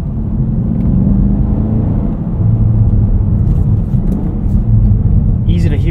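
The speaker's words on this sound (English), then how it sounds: "Exhaust just sounds gnarly." A 2024 Cadillac CT5-V Blackwing's engine and exhaust rumble steadily from inside the car while driving, a deep continuous drone with slight swells as the revs change.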